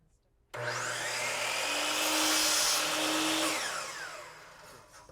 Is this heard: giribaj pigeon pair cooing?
no